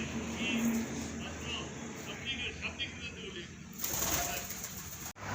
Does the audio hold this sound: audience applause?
no